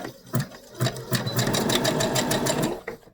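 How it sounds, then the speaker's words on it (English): A sewing machine stitching a fabric face mask runs in a steady rapid patter close to the mic, needle strokes ticking evenly for about three seconds before slowing to a stop. "and then begin your stitching"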